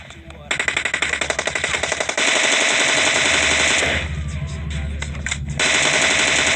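Loud rapid automatic gunfire in a multiplayer shooter video game, sustained bursts of fast rattling shots that continue almost without a break, with a voice talking over part of it.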